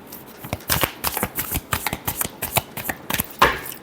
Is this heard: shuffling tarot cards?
yes